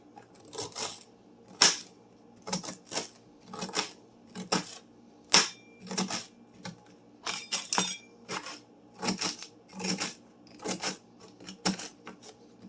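Knife slicing very fresh celery into half-inch pieces, a regular series of crisp, close chops landing on a board about once a second, each a sharp snap with a short crunch.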